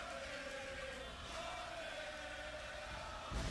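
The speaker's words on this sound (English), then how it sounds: "Listen to the crowd." A wrestling crowd cheers in an arena, a steady, fairly distant roar of many voices that swells slightly before a sharper burst near the end.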